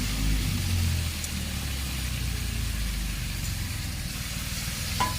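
Tomatoes, rock salt and ginger-garlic paste sauté in a pan for white biryani, producing a constant, moderate sizzle that runs unbroken with no voices.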